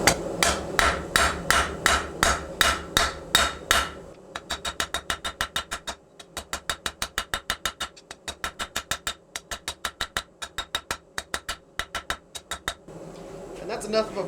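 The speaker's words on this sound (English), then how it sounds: "Now we can just flip to our flat side of our rounding hammer." A rounding hammer strikes 5160 coil spring steel on an anvil while a knife is forged, ringing metallic blows in steady rhythmic bursts with brief pauses between series.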